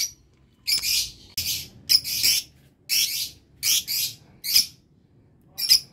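Young lutino lovebird chicks give a series of shrill, high chirps in short bursts separated by brief pauses, close and clear with no other sound.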